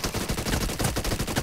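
Rapid automatic gunfire in PUBG Mobile arena gun-game mode, a fast steady string of close, punchy shots repeating evenly for the whole moment.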